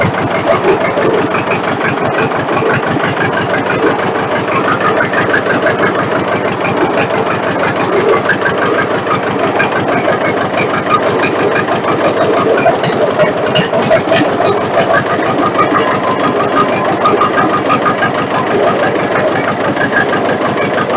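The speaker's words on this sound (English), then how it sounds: "Okay, so now when we go to fire this up, it should, take off, start firing on each cylinder." After its fuel system is primed and the injectors are bled, a diesel engine runs at a steady, loud, close idle with a rapid, even clatter that holds unchanged for the whole stretch, with no talking over it.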